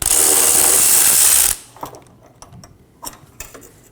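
A ratchet works loose a fuel tank strap bolt under a 2015-2023 Nissan Maxima 3.5L V6, a loud whirring burst followed by scattered clicks and metallic taps, close by.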